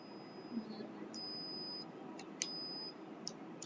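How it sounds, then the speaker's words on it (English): A multimeter's steady high-pitched continuity beep sounds in several bursts, some long and some short, over a low background hum. "what happens is my meter beeps"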